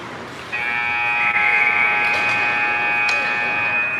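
Sustained electronic buzzer marking the end of the second period at an under-18 ice hockey game between the Bears and McCormick, a single long steady tone lasting several seconds over faint arena ambience.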